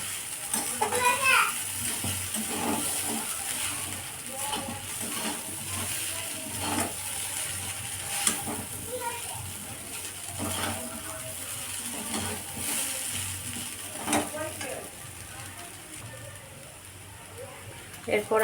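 Chow mein noodles with potato frying in a pan, with a steady hiss under broadband crackle, broken by scattered clinks and scraping stirs; nearby kitchen noise and faint voices sit in the background.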